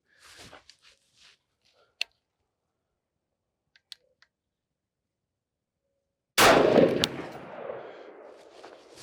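A single loud SPR rifle shot at an outdoor shooting range cracks out after several faint clicks and handling noises, followed by a long rolling echo that fades away.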